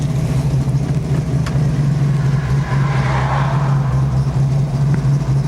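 A classic Ford Mustang engine idles steadily after a restart, a loud, even low rumble that holds throughout with no voices.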